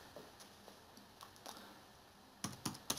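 Command being typed on a computer keyboard for VirtualBox settings, sparse soft key clicks followed by a quick cluster of louder presses at the end, close and quiet.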